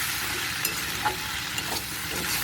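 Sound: water spinach being stirred while frying in a pan

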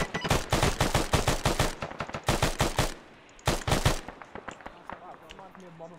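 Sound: gunfire during combat

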